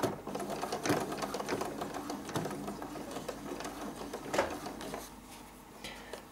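A sewing machine stitches slowly along a thick hem, its motor whirring steadily and close with a few louder thumps as the needle works through the layered fabric, then trailing off near the end.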